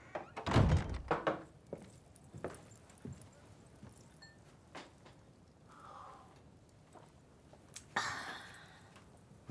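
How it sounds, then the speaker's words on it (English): A door being closed indoors, a heavy thunk near the start followed by a few softer knocks and shuffling, fairly close, with quiet background noise and no speech. "Close the door."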